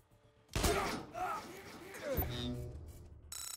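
Gunfire in the video game Wasteland 2: a sharp burst of shots rings out, followed by a second thump-like report a moment later, heard over mechanical game sounds and a voice talking.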